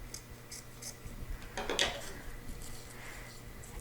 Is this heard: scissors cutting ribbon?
yes